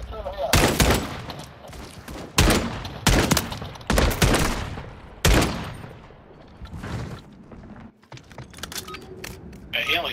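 Sharp gunshots ring out in a dubbed gunfight, a series of loud individual cracks spaced irregularly across the scene with quieter stretches between, and voices talking around them.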